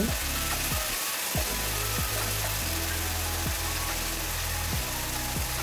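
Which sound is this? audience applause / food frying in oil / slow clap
food frying in oil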